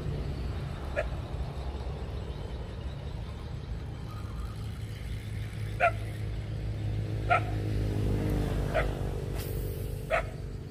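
Several dogs bark in short, sharp bursts at a fishing pond, with four or five distinct barks spaced over several seconds against steady outdoor background noise.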